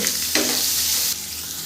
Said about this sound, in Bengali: এখন আমি এখানে পেঁয়াজ রসুন কুচিটা দিয়ে দেব পেঁয়াজ রসুন কুচিগুলো দেওয়ার পর আমি এগুলো একটু হালকা বাদামি করে